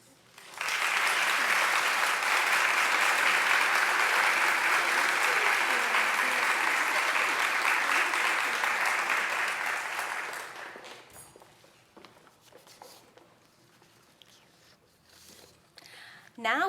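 Loud, sustained applause for the PTA executive officers at a council scholarship awards event, running steadily for about ten seconds before fading into quiet room noise and scattered movement.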